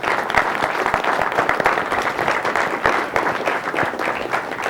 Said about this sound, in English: I'd like to just really quickly give them a round of applause